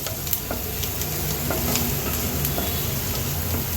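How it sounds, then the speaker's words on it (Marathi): Onion with half a spoon of turmeric fries on high flame for a red amaranth dish, a loud continuous sizzle up close with occasional stirring scrapes and no talk. "हाय फ्लेमवर कांदा जरा परतून घेते"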